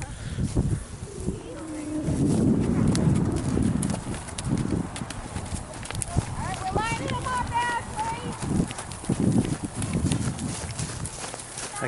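Horse hooves clip-clop steadily at a riding session, a regular rhythm of close, moderately loud footfalls mixed with rustling, while people talk intermittently over it.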